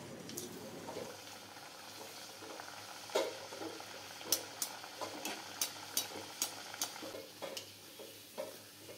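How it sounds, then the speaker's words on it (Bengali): Rohu fish kachori frying in hot oil in a home Bengali kitchen, a steady bubbling sizzle with repeated sharp ticks and clinks of a utensil turning the pieces, no talk. "সাবধানে হাত বাঁচিয়ে আস্তে আস্তে কচুরিগুলিকে গরম তেলে ছেড়ে দিতে হবে, দিয়ে ভালো করে আস্তে আস্তে এপিট ওপিট করে ভেজে নিতে হবে"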